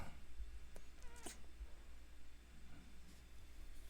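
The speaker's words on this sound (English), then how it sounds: "It's a kitty." A cat meows, giving a couple of brief, wavering cries near the start. The cries are moderately clear over a constant hissing background.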